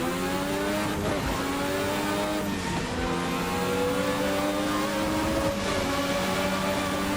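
A turbo 1986 Formula RSS F1 car accelerates hard in a racing game, its loud buzzing engine rising in pitch. It drops sharply at each of several gear changes, then climbs again in a steady rhythm of upshifts.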